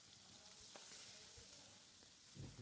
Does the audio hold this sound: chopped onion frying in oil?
yes